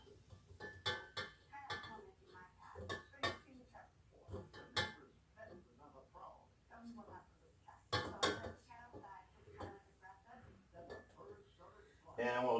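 A spoon scrapes three-ingredient sugar-free cookie dough out of a mixing bowl, giving repeated quiet scrapes and clinks against the bowl while someone talks throughout.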